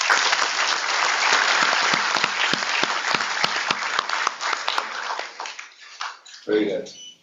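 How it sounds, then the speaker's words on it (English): Audience applause at the Fourteenth Foundation Day event of IIM Tiruchirappalli, a dense burst of clapping that fades out over several seconds, followed by a brief voice. "Can we give a round of applause to Dr. Pavan, please?"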